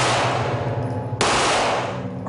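Handgun converted to full-auto fire with an illegal switch device: a dense, loud, continuous burst of rapid gunfire, briefly broken and then resumed, with no voices.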